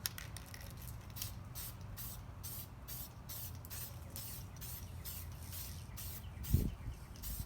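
Aerosol spray paint hissing onto a clear Traxxas RC desert racer body, a quiet continuous spray in short repeated bursts close to the can, with a brief thump near the end.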